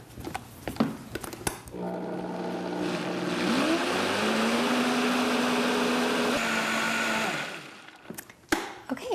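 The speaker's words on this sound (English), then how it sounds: "so now we're gonna blend this all again, and we want it to all emulsify and mix together so it's nice and creamy again" A kitchen blender whirs steadily for several seconds, rising in pitch as it purees lemon cheesecake filling, loud and close, with clunks before and after.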